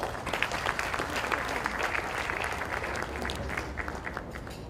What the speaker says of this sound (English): May I request all of you to please join me in giving them a round of applause.